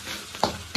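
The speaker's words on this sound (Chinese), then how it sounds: "继续翻炒" Scallion and ginger being stir-fried in oil in a wok, a short burst of sizzling with a couple of quick scraping stir strokes, close and alone.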